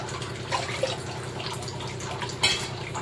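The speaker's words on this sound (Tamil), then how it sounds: "தண்ணி ஊற்றினா கரெக்டாக இருக்கும்." Water is poured into a pot of washed rice and dal for Sakrai Pongal, heard as irregular splashes and drips close by, with no talking.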